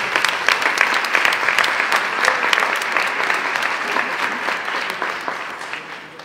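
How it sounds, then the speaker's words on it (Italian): An audience applauds at an award ceremony honouring efforts to overcome inequality, a steady dense wash of clapping lasting about six seconds and fading slightly toward the end. "E allora facciamo un applauso."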